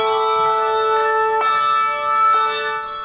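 A handbell ensemble rings sustained, shimmering bell tones, with new strikes landing about once a second over a lingering ring, loud and close, no talking.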